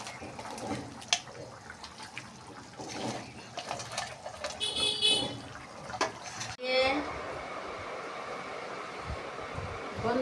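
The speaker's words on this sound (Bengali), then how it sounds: "এই যে আমার ঝোলটা ফুটছে" A pot of Katla fish head curry gravy with potatoes, the fried fish heads added, bubbles and simmers on the stove with a steady close hiss and gurgle, while someone talks over the first part.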